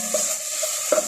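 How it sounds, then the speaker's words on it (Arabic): Onion and tomato paste frying in a pan for kubba jareesh, a brief steady sizzle with a couple of light spoon scrapes, close and moderately loud, no voices. "حمس البصل، حذب عليه هاي نص خاشوقة مال المعجون"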